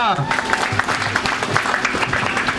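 Guests at a Mehandi and Sangeet wedding ceremony clap enthusiastically, dense applause running throughout with a voice and background music mixed in.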